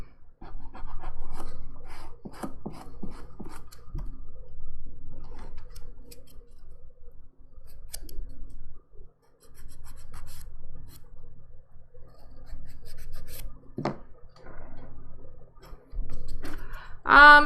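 Nail edges are filed with a 180 grit file during a dip powder manicure: a steady, faint scratchy rasp of short rubbing strokes runs close up nearly throughout, with a few brief clicks near the end.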